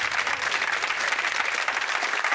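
A studio audience on a trivia game show bursts into sustained, dense applause and cheering that stays loud and even throughout, with no speech over it.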